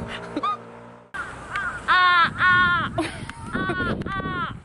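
A crow caws loudly in a series of harsh, repeated calls, several in quick succession and close by, with people chatting around it outdoors.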